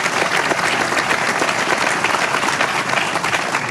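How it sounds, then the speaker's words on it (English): A large audience applauds steadily, dense clapping filling the scene at close range and holding at an even loudness throughout, with no speech over it. "And listen to all the claps."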